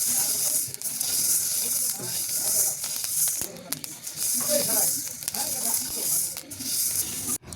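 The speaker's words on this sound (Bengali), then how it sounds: "তারপরে আলতো আজে চালটাকে আমরা ভেজে নিব।" Washed, drained and dried rice dry-frying in a pan, giving a steady close hiss and sizzle with scattered crackles throughout.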